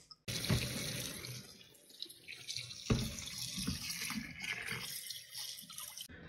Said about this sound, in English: So the first thing I want to do is wash my bell peppers.